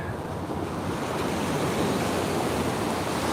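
Waves wash in steadily at the water's edge on Coney Island beach, a continuous broadband surf roar with wind buffeting the microphone, close and loud, with no voices.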